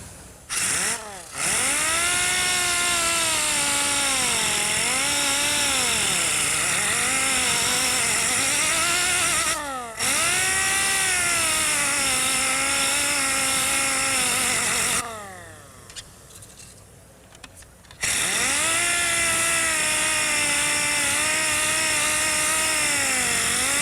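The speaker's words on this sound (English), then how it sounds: "I'm going to hit it real quick with the sander." A power sander grinds against sheet metal during metal shaping, a loud steady motorized whine with shifting pitch that cuts out briefly around ten seconds and again for a few seconds near the end.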